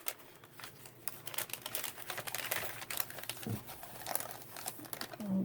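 Paper being trimmed with scissors or a blade, book pages and a brown paper lunch sack for a pocket envelope: soft, continuous crinkling and snipping at close range, fairly quiet, with no talking.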